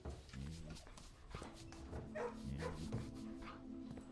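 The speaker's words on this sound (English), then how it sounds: "Pet the doggos." Dogs in a video game kennel whimpering and giving short barks and yips over a droning game background, moderately faint.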